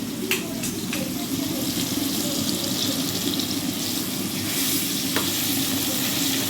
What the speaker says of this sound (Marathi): फोडणीला लसूण तर टाकलाच आहे, पण जरा लसणाची पेस्ट टाकली